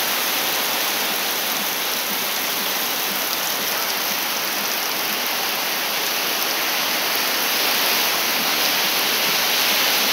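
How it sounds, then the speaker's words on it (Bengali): Heavy night rain driven by strong wind near market stalls, a dense, steady roar that fills the whole stretch at constant loudness with no voices. "প্রচণ্ড বৃষ্টি"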